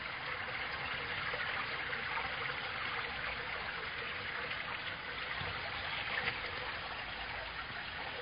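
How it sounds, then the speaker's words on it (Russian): A large, full stream of water flows near Bryansk, giving a continuous rushing and gurgling sound that stays steady and fairly close throughout, with no voices. "И становится уже большим полноводным ручьем."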